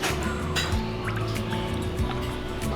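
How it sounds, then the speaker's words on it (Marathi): Water splashes and trickles into a pot of bombil fritter batter, dripping and gurgling in short bursts over a low background hum. "आता त्याच्यात थोडंसं आपल्याला पाणी टाकावं लागेल"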